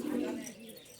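A Laldum pigeon in a loft coos with a low throaty call at the start, fading to softer murmuring, with a person's voice mixed in nearby.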